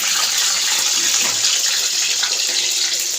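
Eggs going into hot oil in a home kitchen, making a loud, steady, hissing sizzle that stays constant from start to finish with no pauses.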